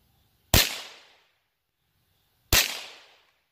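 Two sharp, loud gunshots from a newly bought gun, spaced about two seconds apart, each a sudden crack with a short fading ring-out and silence between.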